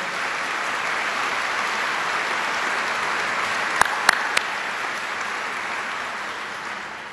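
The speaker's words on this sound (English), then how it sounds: "Let's give him a round of applause." Sustained, even applause fills a hall at a New York State budget event with the governor in Syracuse, a steady roar of many hands with a couple of sharp clicks near the middle and no talk over it.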